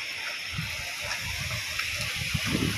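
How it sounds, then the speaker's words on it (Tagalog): Strong waves rush and slosh at the water's edge, a continuous churning wash with heavier low surges rolling in near the end, close and fairly loud with no talk over it. "Oh, lakas ng alon."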